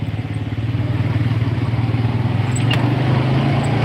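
An off-road vehicle called the Bumblebee drives a trail in Brown County, southern Indiana, its engine throbbing in a loud, steady, pulsing rumble with light clatter.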